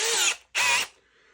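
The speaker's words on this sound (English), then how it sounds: "take our drill" A power drill bores into an off-road FreedomLink mount in two short whirring bursts separated by a brief pause, then winds down to quiet.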